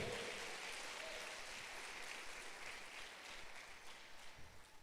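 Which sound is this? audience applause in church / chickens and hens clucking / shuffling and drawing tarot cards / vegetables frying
audience applause in church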